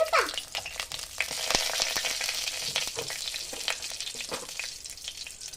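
Oil sizzles and crackles in a pan while biryani is being made, a loud continuous fry close by, broken by scraping and clinking from stirring.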